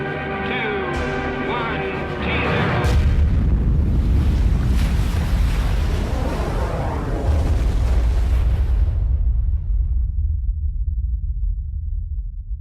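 A thermonuclear bomb explosion with a force of ten million tons of TNT: a deep, roaring rumble that swells and holds for several seconds, then drops away into faint low rumbling.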